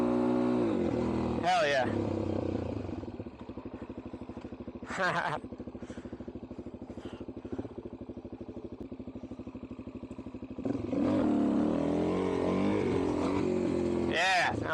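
Motorcycle doing rolling burnouts on the Blue Ridge Parkway, a loud sustained engine drone with rising revs, a few sharp bursts and a quieter stretch mid-way; a voice cuts in briefly.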